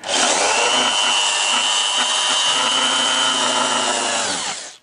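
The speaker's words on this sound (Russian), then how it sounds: "Вот просверлили, просверлили." A power drill bores holes into 28 mm floorboards, a loud, close, continuous whine held steadily for several seconds before spinning down at the end; no speech.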